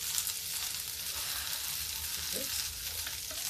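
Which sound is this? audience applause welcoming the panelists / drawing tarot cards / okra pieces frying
okra pieces frying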